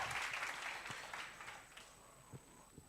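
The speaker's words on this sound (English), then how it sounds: "Please, can we give him a round of applause?" Workshop participants in Atteridgeville clap for a prize winner, a brief, fairly quiet burst that dies away quickly, leaving a few scattered claps and small thumps.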